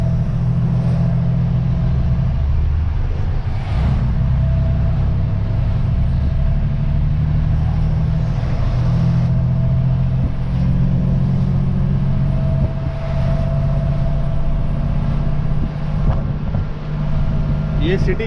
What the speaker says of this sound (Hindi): ये सिटी के अंदर की ट्रैफिक है।